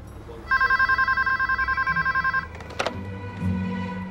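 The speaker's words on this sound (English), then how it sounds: "You're not allowed to answer Beckett's phone." A telephone rings with a rapid trilling electronic bell for about two seconds, loud and close, then stops with a clatter as it is picked up, and a voice begins speaking.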